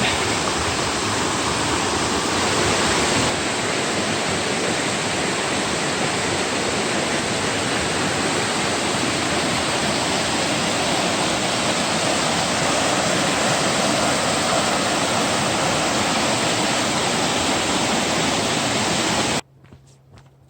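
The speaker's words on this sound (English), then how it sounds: "by itself it's a sizable creek, the size of most rivers" A sizable creek, as large as most rivers, rushes steadily through the Southern Nantahala Wilderness in North Carolina, a loud, dense, unbroken roar of flowing water close by that cuts off abruptly near the end, with no voices.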